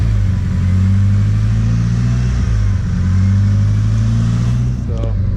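A repaired car engine idles loudly and close by, a steady low rumble with slight surges in revs, while someone talks over it.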